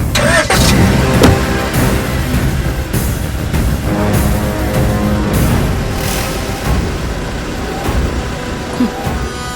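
A car engine cranks and starts with a loud near churn, then settles into a steady running rumble with small bursts of revving throughout.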